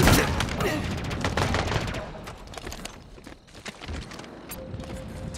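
Gunfire from a firefight in Halo Infinite, with dense bursts of rapid shots and sharp cracks crowding the opening seconds, then thinning to scattered distant reports over a low game rumble, with a brief tone near the end.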